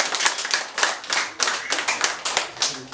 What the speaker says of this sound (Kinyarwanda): Ngaho tumwongera amashyi.